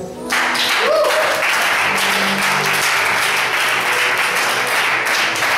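Applause from a church congregation fills the room, a dense, steady wash of clapping that stays loud and even throughout, with a few faint voices mixed in.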